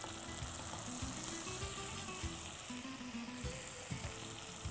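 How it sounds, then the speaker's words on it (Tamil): Bitter gourd dropped into hot masala in a pan, a loud continuous close sizzle with a few soft thumps as it is stirred. "இந்த பாவக்காவை அப்படியே அதை போட்டுறேன்."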